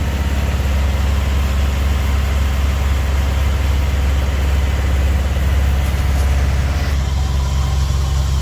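A car engine idles during an Arkansas snowstorm, in an enclosed space opened up to air out exhaust, producing a steady, loud, low rumbling drone that holds constant without a break.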